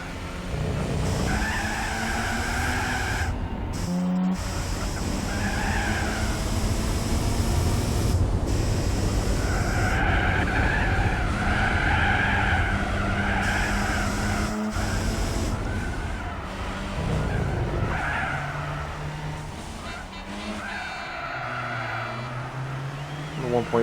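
A stock-braked 1.4-litre race car in Gran Turismo 4 lets out repeated tire squeals and skids over a steady engine roar on narrow uphill roads, while someone talks over the game sound.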